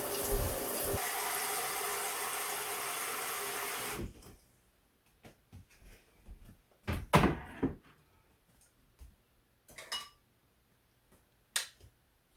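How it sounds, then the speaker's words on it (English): Water gushes in a steady, loud rush for about four seconds onto dry fiber being wetted for dyeing, then cuts off, leaving near quiet broken by a few scattered clunks and knocks. "it's probably going to take a fair bit of water because I'm putting the fiber in dry"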